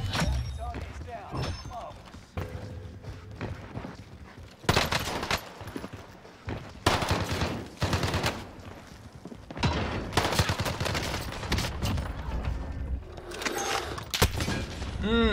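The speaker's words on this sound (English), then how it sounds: "Getting shot at." Gunfire in Call of Duty Warzone on Rebirth Island, with an MP40 submachine gun among the weapons: repeated bursts and single shots, some close and loud, others further off, mixed with game voice lines and player talk.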